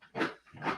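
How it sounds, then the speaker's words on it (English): A household dog barks twice, short muffled woofs heard at moderate distance in a room, with no talk over them. "That's our dog."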